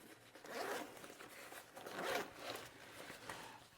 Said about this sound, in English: those zippers are smooth